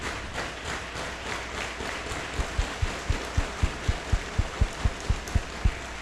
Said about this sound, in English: The fans are all standing and applauding.